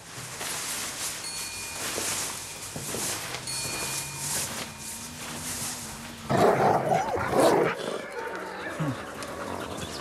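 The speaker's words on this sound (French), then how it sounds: "Alors, les petits chiens." Small dogs barking, with the barks coming in a loud burst midway through, and panting and chatter mixed into the background noise.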